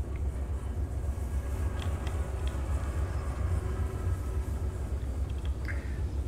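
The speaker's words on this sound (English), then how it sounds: "A big part of this is listening to the train." A train rolls steadily in the Derail Valley simulator, a constant low rumble of wheels and carriage noise with occasional faint high clicks and squeals, loud and continuous throughout.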